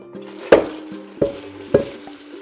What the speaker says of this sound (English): We'll add the fat back into the pot once we remove the meat and saute our vegetables